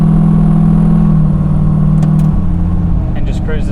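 Loud, close engine note of a 1500hp Holden Ute holds a steady drone, then dips and changes pitch as gears click through, with faint chirps toward the end.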